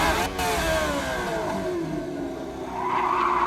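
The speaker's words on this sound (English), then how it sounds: "and then 3 hard downshifts" A 1954 Maserati 250F racing car in a racing game snarls through three hard downshifts, engine pitch stepping and sweeping with rev blips before climbing again, loud and close.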